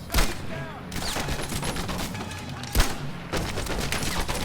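Light machine gun fire in the Medal of Honor: Airborne video game, dense continuous bursts of automatic gunfire with a couple of sharper heavy reports, loud and close, no talking over it.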